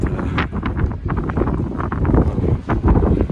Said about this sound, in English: Yeah, big wind gust in here.